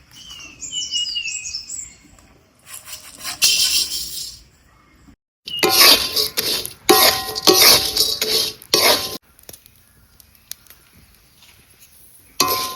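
Whole spices being dry roasted in a pan in a village kitchen, with intermittent scraping and rattling of spices stirred against the metal, loud bursts separated by pauses and faint bird chirps in the background.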